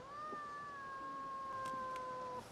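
A cat gives a long, drawn-out steady meow, faint and somewhat distant over a low background hiss.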